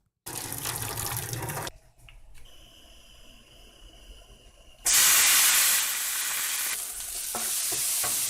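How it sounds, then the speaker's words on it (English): Drained noodles hit hot coconut oil in a pan, bursting into a loud, bright sizzle partway through that settles into steady frying hiss, after quieter kitchen clatter and stirring. "So now we're frying it with coconut oil."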